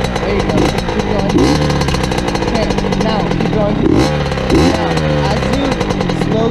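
A dirt bike engine revs loud and close, holding a rough, rattling buzz with repeated rises and falls in pitch as the throttle is worked, while people talk over it.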